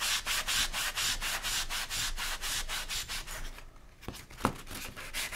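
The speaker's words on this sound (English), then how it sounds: "Do you need another sanding block?" Hand sanding with a sanding block on a holiday home decor craft piece, steady rhythmic back-and-forth strokes close up, then a brief pause and a couple of sharp scrapes.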